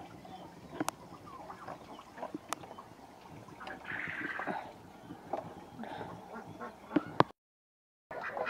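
Ducks on a farm quack faintly at a distance, with a short burst of calls partway through. A low background murmur of activity and scattered clicks runs underneath.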